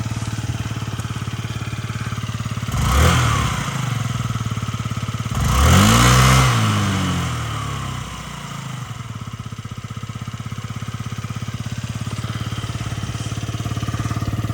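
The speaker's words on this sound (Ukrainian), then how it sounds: "гарно мурчить двигунчик" A fuel-injected Yamaha Jog SA-39 ZR scooter engine idles steadily nearby, with two brief revs that rise and fall before it settles back into a low putter.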